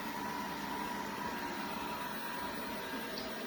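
A DeenKee DK700 robot vacuum runs indoors with a quiet, steady motor hum and airy whir that holds constant throughout.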